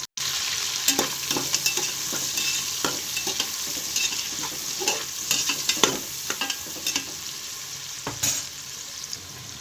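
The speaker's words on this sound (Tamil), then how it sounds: "எண்ணெய் சூடானதும் சோம்பு பட்டை பிரிஞ்சி இலை எல்லாம் போட்டு தாளிச்சுக்குவோம் அடுத்து கருவேப்பிலை அடுத்து சின்ன வெங்காயம் போட்டு கொஞ்சம் நல்லா வதக்கிக்கணும்" Shallots, fennel seeds, cinnamon, bay leaf and curry leaves sizzle in hot oil, with steady close frying crackle and intermittent stirring scrapes, for a goat head curry.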